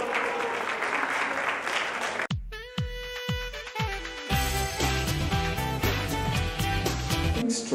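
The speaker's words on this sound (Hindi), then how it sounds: "जोरदार तालियां।" Audience applause at a press launch event: a couple of seconds of dense clapping that cuts off abruptly as music with thumping beats starts and carries on.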